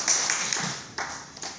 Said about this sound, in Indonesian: tepuk tangan dulu dong untuk Nagaya